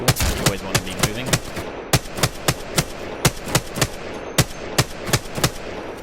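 Repeated gunshots from a video game firing range in Apex Legends, crisp single shots spaced in a loose, uneven rhythm, loud and close with no talking.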